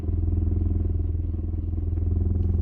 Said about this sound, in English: It might be the exhaust rubbing on one of the shields or rubbing on the actual car.